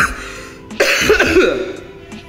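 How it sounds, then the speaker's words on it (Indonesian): A person coughs a few times in quick succession close to the microphone, harsh and throaty, then quiet. "Aduh, batuk-batuk gua."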